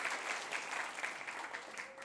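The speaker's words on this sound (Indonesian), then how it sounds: "Ya tepuk tangan bagi Allah kita." A church congregation applauds in praise of God during a sermon, a fairly faint but steady burst of clapping that carries on without a break.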